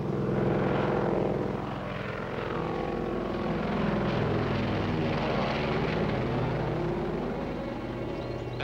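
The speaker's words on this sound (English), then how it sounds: "That's Marsden's plane." Propeller airplane approaching in a 1940s harbor film serial, a steady loud droning engine hum with throbbing prop rhythm that holds on throughout, no speech over it.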